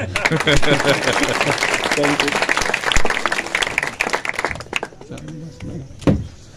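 Applause at a prayer meeting: a congregation claps in a dense burst that thins out and fades, then a voice begins speaking near the end.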